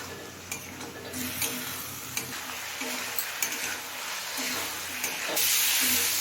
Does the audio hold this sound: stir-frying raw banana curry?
yes